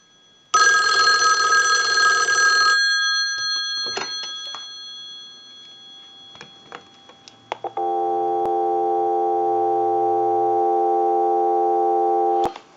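A steady electronic dial tone hums continuously for several seconds through a Western Electric 2500 desk telephone, following an earlier burst of ringing tone and a few faint clicks.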